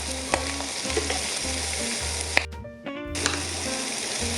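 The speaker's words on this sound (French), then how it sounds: "Donc là, la garniture, je vais la griller un petit peu." Onions, carrots and celery fry as a garnish for a red-wine chicken fricassee, sizzling steadily in a pan with a brief pause in the hiss before it resumes.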